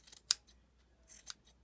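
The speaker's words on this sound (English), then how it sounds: "it's all about having the good scissors" Sharp scissors snipping through crochet wool, two distinct close cuts separated by a short pause in a quiet room.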